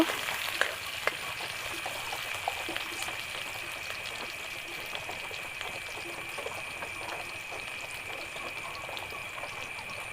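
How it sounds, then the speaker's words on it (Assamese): Chopped onions stirred and frying in a pan for a potol (pointed gourd) dish, a soft steady sizzle with faint scraping clicks from the spoon, close and quiet, no talking. "পিঁয়াজখিনি লৰাই দিব।"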